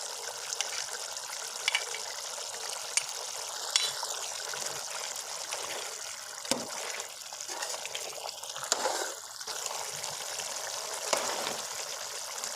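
Mutton liver masala with green chillies fries in a pan, giving a steady, fairly quiet sizzling hiss with occasional spits and pops and no voices.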